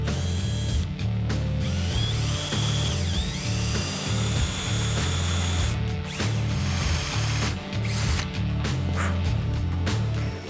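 Stainless steel pop rivets being fitted to an exhaust end cap, a loud, steady mechanical whirring with a repeating low, chugging pulse and sharper clicks breaking through across the span.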